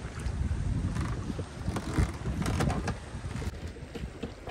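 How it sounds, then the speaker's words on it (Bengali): A small fishing boat rocks on a strong current and choppy waves in gusty wind, with constant low rumbling water and buffeting wind noise throughout, close and fairly loud. "প্রচুর স্রোত, প্রচুর ঢেউ।"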